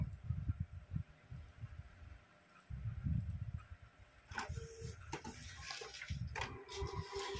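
A Canon G1000 inkjet printer with a clogged print head runs a head-cleaning cycle. Quiet, close pumping rumbles come in uneven pulses, followed by sharper mechanical clicks and whirs.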